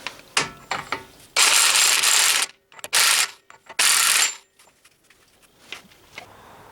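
Ratchet tightening an axle nut on a 2003 GMC Sierra during a lower ball joint replacement, with two long bursts of rapid clicking separated by short clicks and clanks, close and fairly loud.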